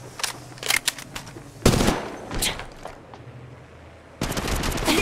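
Gunfire in the video game Apex Legends Mobile comes in loud, close, rapid bursts with short gaps, ending in a sustained volley.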